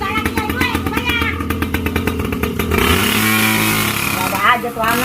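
A motorcycle engine revs and putters nearby, a pulsing rattly idle that rises into a steady higher drone, with voices talking loudly over it in a street comedy scene.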